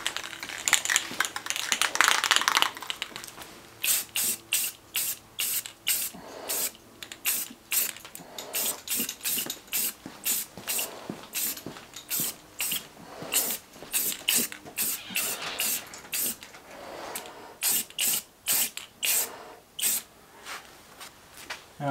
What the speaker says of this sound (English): now we're going to do our second coat